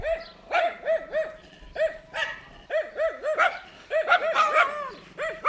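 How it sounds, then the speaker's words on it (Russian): Three dogs bark and yap excitedly at close range, overlapping in quick, uneven bursts of high, rising barks that keep going for several seconds. "Ну чего вы разлаялись?"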